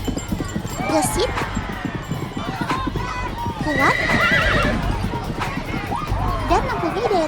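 Horses gallop with rapid clip-clopping hoofbeats and repeated whinnying at a Pasola mounted contest, loud and busy with crowd voices and a narrator speaking over it.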